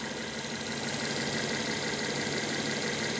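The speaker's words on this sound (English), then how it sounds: "we can hear how nice it's idling" A 2015 Mercedes C 350 Coupe 4MATIC engine, 16,000 miles, idles smoothly and steadily, a constant close hum with no voices.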